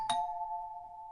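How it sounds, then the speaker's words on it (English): A single doorbell chime rings out at a house door, a sharp strike followed by a clear, steady tone that sustains and slowly fades, alone in a quiet room. "He rang the bell."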